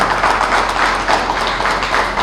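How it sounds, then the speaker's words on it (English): An audience at a New York City meditation summit applauds the Grandmasters, giving a steady, loud wash of many hands clapping that holds evenly throughout with no gaps. "Let us clap for Grandmasters once for music. A big clap"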